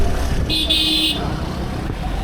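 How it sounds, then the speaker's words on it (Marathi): Heavy road traffic rumbles through Mumbai near Dadar, with a car horn honking for about half a second partway through over the steady engine and road noise. "आज खूप ट्रॅफिक आहे मित्रांनो"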